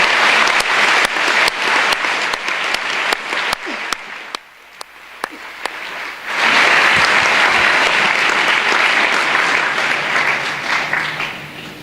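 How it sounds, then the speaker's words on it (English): Many hands clap in a school hall at Speech Day for students, starting loud, thinning to scattered claps midway, then swelling back into a full, steady ovation that carries to the end. "Can we please give all of our students a round of applause for their continued efforts?"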